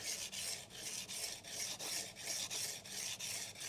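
A kitchen knife blade is drawn repeatedly across a whetstone in a steady back-and-forth rhythm, each stroke a close, loud, gritty scrape with brief pauses between passes and no talking.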